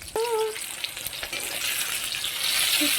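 Onion and tomato fry in a pan with a dense, continuous sizzle close by. Light scrapes and clinks of stirring run through it, and a short vocal sound comes at the start.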